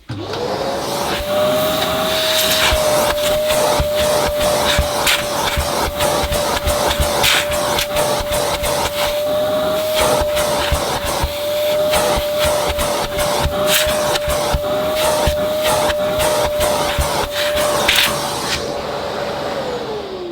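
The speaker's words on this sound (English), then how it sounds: "Just vacuuming the filter has got a lot of the dust out" A Shark Stratos filter is vacuumed with a cylinder vacuum cleaner that runs steadily for a long stretch, its motor whine constant while the nozzle rattles and scrapes across the filter, then winds down.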